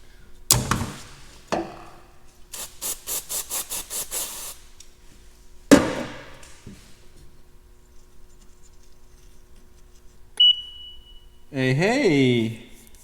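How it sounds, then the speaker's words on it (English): Electronics cleaner sprayed into a small connector on a planter, then scrubbed with a Scotch-Brite pad: sharp bursts, a run of rapid rhythmic scrubbing strokes, a few clicks and a short spray burst, close and otherwise quiet. "spray some electronics cleaner in there, and try and scrub it down with this"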